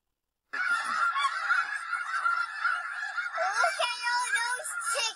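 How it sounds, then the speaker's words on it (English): Flock of geese honking in a continuous, clamorous overlapping chorus that starts abruptly after a short silence, loud and close. "obviously they're not chickens, but maybe she's never seen geese before, but she knows chickens"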